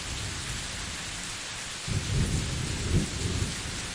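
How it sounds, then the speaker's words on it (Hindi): Steady heavy rain pours down, with deep thunder rumbling in from about halfway through and swelling twice over the downpour. "बारिश और भी तेज होने लगती है"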